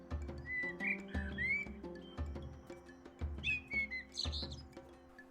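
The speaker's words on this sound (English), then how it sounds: "this American bird, living in Australia, has the voice of a European blackbird" A European blackbird's fluting song voicing an eastern bluebird in the video game Copycat, with repeated short whistled phrases and chirps set over soft, steady low musical notes.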